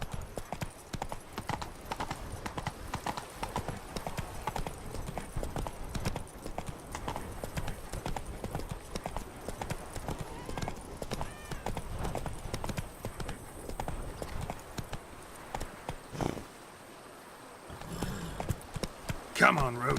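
Hoofbeats from the horse Roach in The Witcher 3 drum in a fast, continuous gallop, close and steady, dropping out briefly near the end before resuming.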